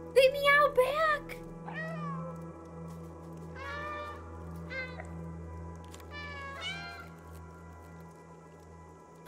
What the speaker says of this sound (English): They meow back!